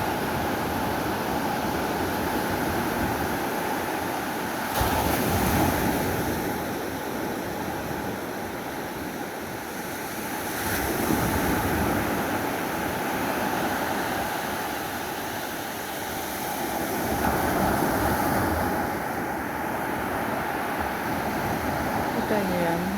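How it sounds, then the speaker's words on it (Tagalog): Ocean waves on a shore in Brunei roll in as a steady, loud surf wash, with swells cresting roughly every six seconds and wind noise buffeting the microphone. "ang ganda ng dagat."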